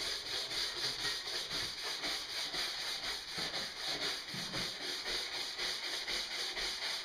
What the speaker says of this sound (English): I just use a nylon brush and I go at 45-degree angles and just work across like this